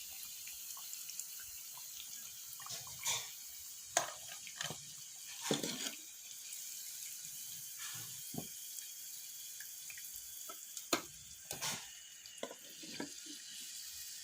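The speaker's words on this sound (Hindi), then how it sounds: "अब इसे भी हम डार्क ब्राउन होने तक के फ्राई करेंगे और इसे निकाल लेंगे।" Onion kachori deep-fry in hot oil until dark brown, giving a steady sizzling hiss broken by scattered pops and soft clinks from stirring, with no talking.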